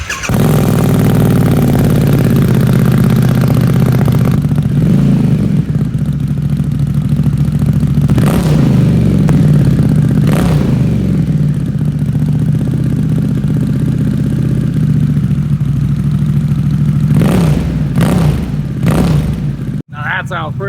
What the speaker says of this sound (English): Now let's cut over to a clip of our new exhaust. All right, let's try a cold start.